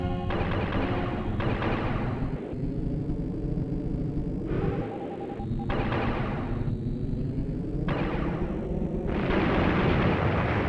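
Dense, continuous barrage of missile and laser fire from an Acorn Archimedes shooter game, loud and rumbling with repeated bursts and electronic tones throughout.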